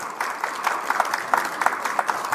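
An audience claps at a government budget meeting in Senayan, with dense, steady applause sustained throughout and a few sharper individual claps popping out of the wash.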